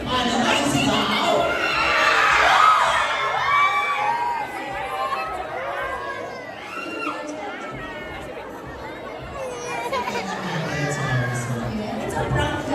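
A crowd at a film premiere night for Un/Happy for You, with a dense wash of chatter, shouts and chuckles. The noise swells early, dips in the middle and rises again, with many voices talking at once.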